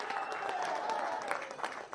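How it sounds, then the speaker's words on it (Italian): Applause from red-and-blue supporters at the end of a junior football final between Castiadas and Torres, a steady, fairly loud patter of clapping from the crowd that holds for the whole stretch. "Gli applausi naturalmente sono anche da parte dei tifosi rossoblù"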